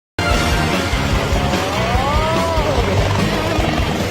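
A helicopter runs during a test flight, producing a loud, continuous engine and rotor roar that starts abruptly and holds steady for several seconds.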